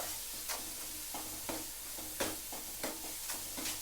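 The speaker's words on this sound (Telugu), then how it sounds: "మసాలా ముద్ద వేసాను ఈ మసాలా వేగిపోతుంది ఇప్పుడు" Masala paste sizzles and fries in a pan, with soft steady crackling and repeated stirring scrapes at an even rhythm, fairly quiet and close.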